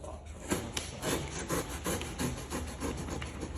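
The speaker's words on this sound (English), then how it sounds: "Let's cut this box right" A cardboard box holding a Craftsman 20-inch 46cc two-cycle chainsaw is cut open up close, with steady scraping and rubbing strokes and a few sharper scuffs running through the whole stretch.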